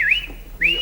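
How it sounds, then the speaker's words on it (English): A man whistles two short rising-and-falling notes separated by a brief pause, close and clear over a quiet background. "You're only supposed to whistle at the birds, not the blokes."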